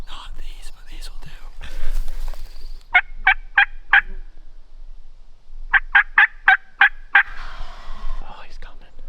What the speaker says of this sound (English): The tom just gobbled.